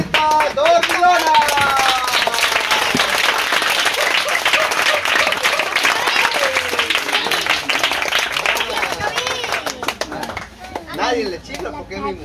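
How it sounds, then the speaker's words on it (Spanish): Audience applause greets the clown Dormilona at a clown show: a dense, steady wash of clapping with voices and shouts over it, thinning and fading near the end. "ahorita me le brindan un fuerte aplauso a la marinerita Dormilona"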